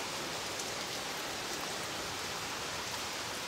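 Steady rain falls at the Buddhapadipa Temple in London, a dense, even hiss of drops that holds unbroken from start to finish with no voices over it.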